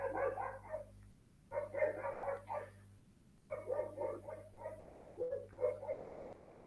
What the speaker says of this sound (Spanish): Están ladrando ahí mis perros.